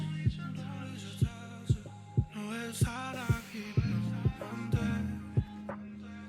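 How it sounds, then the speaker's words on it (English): A heartbeat-like pulse in a song thumps in a steady double rhythm under sustained synth tones and soft melodic vocals. "This sounds like a heartbeat almost."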